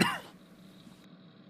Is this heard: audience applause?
no